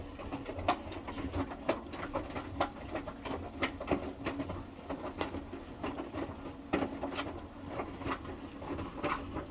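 An Indesit 1400 (WMS E14) washing machine runs with its top and back covers removed, a steady mechanical churn with a continuous low drone under rapid, regular ticking and knocking beats.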